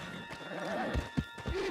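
A horse in the video game Red Dead Redemption 2 gives a short snorting whinny, mixed with a few hoof clops, close by and brief, with faint low talk beneath.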